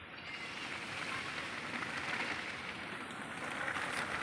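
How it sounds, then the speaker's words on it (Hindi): Steady rain falls in a rural Odisha setting, a dense, even hiss of drops with no breaks, fairly close and moderately loud, with no voices over it. "वर्षा होची ना"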